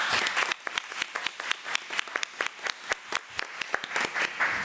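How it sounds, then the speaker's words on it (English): A small audience at a special board meeting gives a round of applause of distinct, fairly sparse claps that are close and clearly separated, like a modest room of people clapping unevenly. "if you all would please give her a round of applause"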